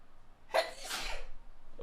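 A single sharp sneeze bursts out close to the microphone, a quick intake followed by a loud explosive blast that trails off into breathy noise, heard alone.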